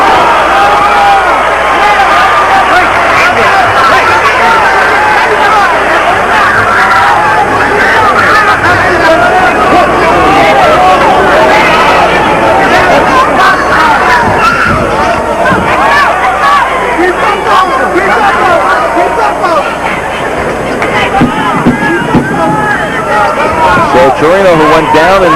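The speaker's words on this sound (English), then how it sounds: "The hometown crowd reveling in" Boxing arena crowd at a Roy Jones Jr. versus Fermin Chirino hometown fight, a loud continuous roar of babble and cheering that fills the whole stretch, with a commentator's voice running over it.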